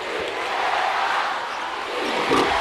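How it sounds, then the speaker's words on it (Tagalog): Barangay Ginebra basketball fans in an arena on a Friday night send up a sustained, broad crowd roar, with a brief swell near the end. "Evan Brock looking to quiet the fans of Barangay Ginebra who are starting to make some noise on this Friday night"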